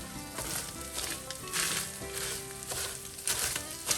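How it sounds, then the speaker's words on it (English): Sausage and coleslaw browning in a pan, a steady close sizzle and crackle of frying with occasional stirring scrapes, no talking. "Now you're going to cook this down so it won't look like this when I get finished."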